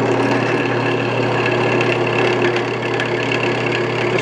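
A drill spinning a larger bit at steady speed while boring a ball joint for a Datsun 521, a loud, constant motor drone with a humming tone, close and unbroken without any talk.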